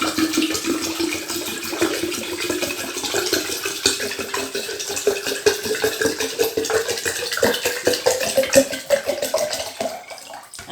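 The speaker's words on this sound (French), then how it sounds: "après avoir versé notre eau dans la carafe" Water pours in a steady stream into a carafe filling with 1.5 litres, splashing close by with a rising pitch as the vessel fills, and the flow stops at the end.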